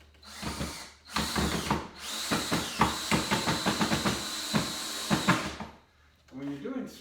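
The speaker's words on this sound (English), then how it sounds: "When you're doing screws, you got to hold a lot of pressure into it." A power drill drives screws into a rebuilt saw table, giving repeated whirring, ratcheting bursts that stop and start. They sound close and fairly loud, with a person talking around them.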